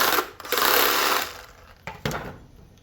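A scrap copper pipe end being cut off, a close, loud continuous buzzing cut that runs for about a second and a half, then fades, followed by a couple of sharp knocks.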